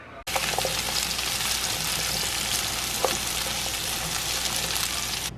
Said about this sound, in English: I'm just gonna basically saute the onions in a little bit of oil and just soften them up a little bit.